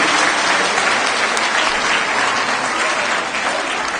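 Loud, dense applause from a large crowd at a political rally, filling the whole stretch with steady clapping that holds an even intensity throughout.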